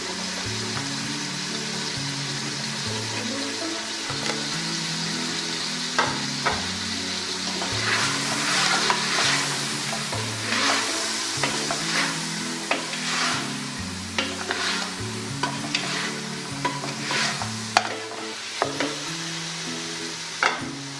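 Cinnamon powder, ginger and garlic sizzle and spatter in a hot pot for chicken broth, with stirring scrapes and sporadic sharp pops over a steady frying hiss.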